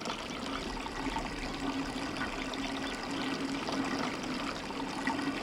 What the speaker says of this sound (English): that should be taking water all the way to the tree